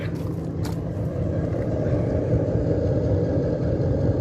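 Exhaust of a Webasto Thermo Top heater running on kerosene for an inflatable hot tub, heard outdoors as a steady low rumbling hum at moderate, constant level.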